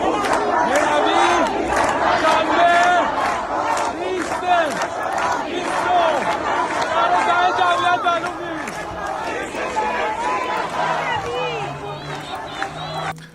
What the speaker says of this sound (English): Massive crowds are gathering and demanding freedom.